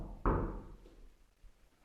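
A single loud knock thuds out in an old haunted prison, sharp at first and then fading into a quiet, hollow room tone, followed by faint scattered taps.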